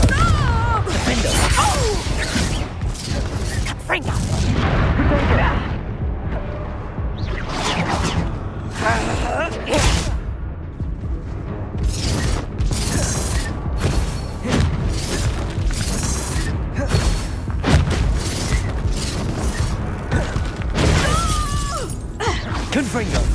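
Bombarda and Confringo spell explosions in the Hogwarts Legacy video game: loud repeated booms, crashes and shattering bursts that keep coming in quick succession through a chaotic battle.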